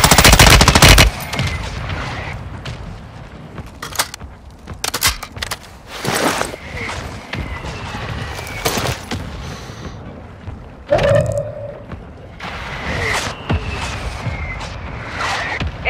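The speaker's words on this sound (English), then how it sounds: "Mortar strike." Mortar strike in a video game, a series of sharp explosive blasts and bursts of fire scattered over several seconds, loud and close, with faint voices between impacts.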